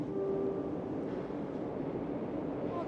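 A Moscow metro train rumbles along in a steady, muffled low roar, fairly quiet and unbroken.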